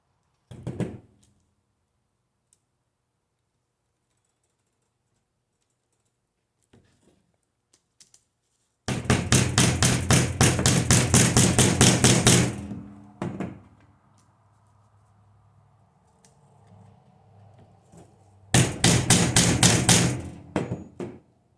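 Two bursts of rapid, sharp tapping blows from hammering tacks into a gopher snake skin mount, close and loud, separated by quiet stretches with faint handling noises.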